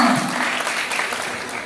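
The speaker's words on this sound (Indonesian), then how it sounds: "tepuk tangannya mana untuk kalian semua" Audience applause at a village outreach event with Balinese bondres comedy performers, steady dense clapping filling the short stretch at a fairly loud, even level.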